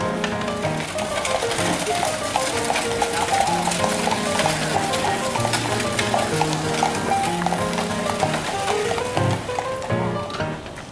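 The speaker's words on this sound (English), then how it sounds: "And now it's time to take our carriage ride." Hooves clip-clop in a steady rhythm as a two-horse carriage moves along, with outdoor background noise and faint voices.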